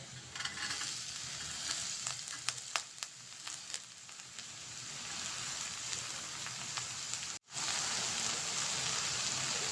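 Chopped ridge gourd fries with small onions in a pan. It makes a quiet, even sizzle with scattered light stirring clicks and a brief break near the end.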